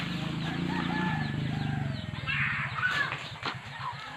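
A rooster calls loudly up close, a rough drawn-out crow followed by a few shorter squawks, with faint background noise.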